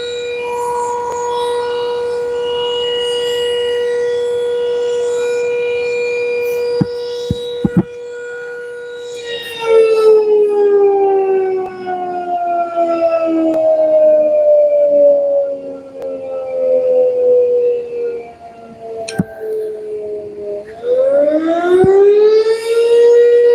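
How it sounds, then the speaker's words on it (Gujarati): The Dharoi dam warning siren sounds before the gates open. It holds a steady, loud wail, then slowly falls in pitch before climbing again, heard alone apart from a few brief clicks. "અત્યારે સાયરન વગાડવામાં આવી રહ્યું છે આપ સાયરનનો અવાજ સાંભળી શકો છો"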